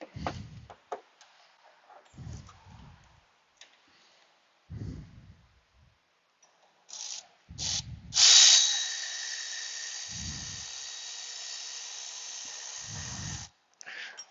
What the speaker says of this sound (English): battery powered ratchet that is, you don't have to sit there and hand twist it